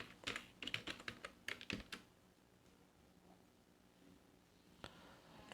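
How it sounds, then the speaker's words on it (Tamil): Fast typing on a computer keyboard at a desk, a dense cluster of crisp key clicks for about two seconds, then quiet with a single isolated keystroke near the end; close and fairly quiet, no talking. "அதில் கூகுள் சர்ச்சில் டிஎன் எம்ப்ளாய்மெண்ட் அப்படின்னு டைப் பண்ணி சர்ச் பண்ணுங்கள்."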